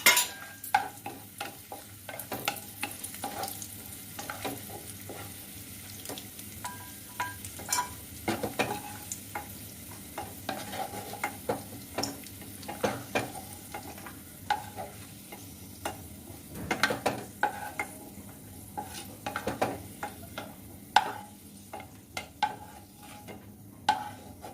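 Cashews and raisins shallow frying in a pan, a soft continuous sizzle broken by frequent clicks and scrapes of stirring, close and moderately quiet with no talking.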